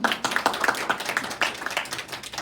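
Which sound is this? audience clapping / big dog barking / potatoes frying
audience clapping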